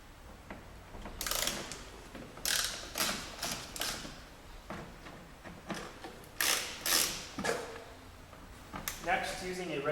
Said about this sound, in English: Next, remove the three T30 Torx.